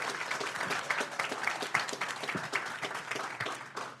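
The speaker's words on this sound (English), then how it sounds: "Clap." Applause breaks out in a city council chamber as a local animal hospital is honored as a business of the month, a steady, fairly quiet patter of many hands lasting about four seconds with no talk.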